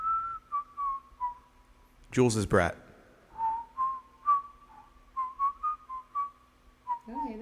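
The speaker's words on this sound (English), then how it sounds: "Oh, hey, there's some whistling. That's whistling." A person whistles a wandering tune of short, clear notes, with a brief burst of talk partway through and another voice entering at the very end.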